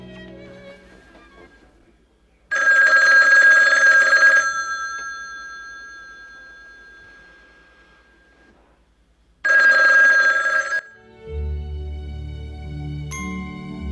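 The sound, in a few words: telephone bell ringing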